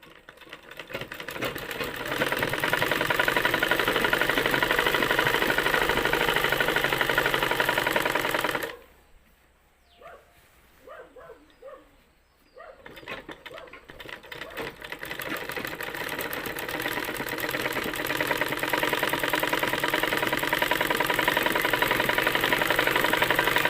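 A sewing machine stitching a blouse runs in a steady loud whir, stops for a few seconds of near quiet with small handling sounds, then starts again and keeps running to the end.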